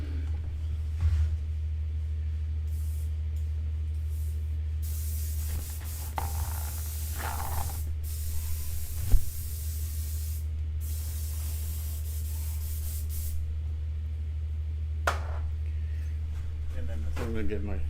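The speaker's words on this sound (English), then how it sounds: "Clean up my airbrush. Get my airbrush to do cleaning" An airbrush blasting cleaning spray in short and longer hissing bursts over a steady low hum, the spraying close and fairly loud, with brief pauses between bursts.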